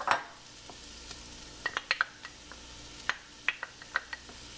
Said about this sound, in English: Now that the oil is warm, I'm going to go ahead and add all the vegetables.